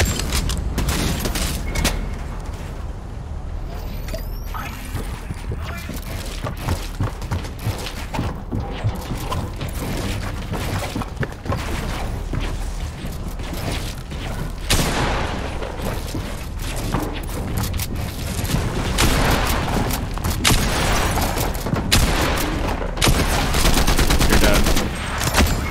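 Rapid automatic gunfire from the Combat Assault Rifle in Fortnite, dense continuous bursts of shots throughout with booms and game effects mixed in, loud and close, with faint talk underneath.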